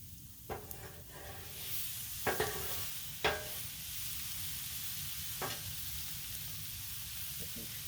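Food fries on a Blackstone griddle with a continuous crackling sizzle, broken by several sharp scraping and tapping strikes of a spatula on the hot steel surface.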